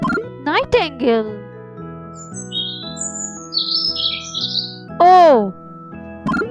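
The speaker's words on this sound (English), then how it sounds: "Nightingale." High, thin nightingale twitters flutter faintly through the middle of the passage over light music, framed by a few louder squeaky cartoonish calls near the start and end.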